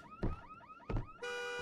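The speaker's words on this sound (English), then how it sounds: "So you hear the car alarm, right?" A car alarm in the horror game Visage wails with a rising and falling electronic tone, then switches to a steady held pitch, heard alone and fairly faint.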